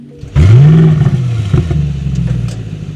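A Mercedes-AMG GLS 63 fires up in its emotional start mode: a sharp, loud ignition burst rising into a close revving roar, then settling into a deep, burbling idle.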